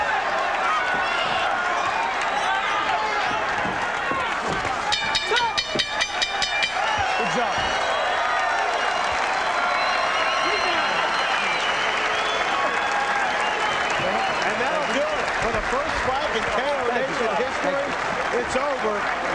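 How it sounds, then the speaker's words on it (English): Arena crowd at Mellon Arena applauding and cheering after the Lamon Brewster versus Clifford Etienne heavyweight boxing bout, a dense, sustained roar of clapping and voices filling the space with a brief burst of sharper claps midway. "The crowd here at Mellon Arena on their feet appreciating what they just saw."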